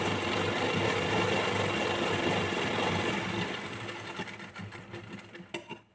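A sewing machine stitches a dart on a blouse, a fast steady mechanical whirr close by that slows and breaks into separate clicks and thumps as it stops near the end.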